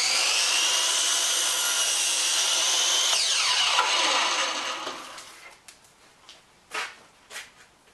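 A power saw cuts through wood for a pair of uprights, a loud steady whining cut lasting about four seconds before the blade spins down, followed by a few faint knocks and scrapes of handling.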